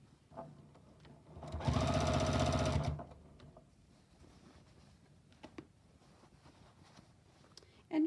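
Sewing machine stitching the side seam of a small bag close to the fold, one steady whirring burst of about a second and a half, fairly loud, with quiet handling noises before and after.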